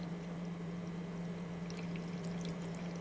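Supernatant from settled wastewater samples being poured off, a soft, steady liquid pour over a low constant hum, faint and unbroken.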